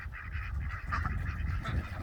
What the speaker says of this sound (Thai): ปล่อยเป็ดออกมา มันอยากออก